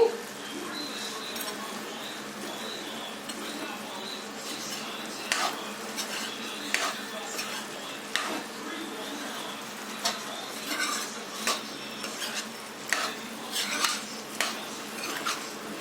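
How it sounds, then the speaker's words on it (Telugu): Utensil stirring chicken curry with garam masala in a pan, with repeated scraping and clinking strokes that grow more frequent toward the end, close and moderately loud over a steady background hiss. "మొత్తం కలిసే విధంగా కలుపుకొని"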